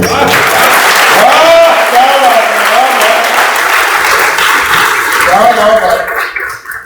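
Dense, loud audience applause fills a Bihar Diwas comedy and music gathering in Patna, a steady wash of clapping that fades near the end, with a voice speaking over it.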